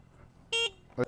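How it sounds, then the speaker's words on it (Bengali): Horn on a Sumato electric bike, a single-tone horn giving two short, loud beeps: a longer blast followed shortly by a brief second toot, heard close by with no one talking. "এই হর্নটা"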